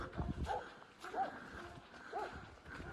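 A handful of sharp dog barks ring out close by, spaced irregularly over a noisy outdoor background.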